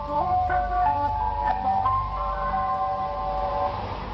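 A slow-moving white van plays a warbling, music-box ice cream truck tune, its wavering melody steady and fairly loud over a low rumbling engine and street background.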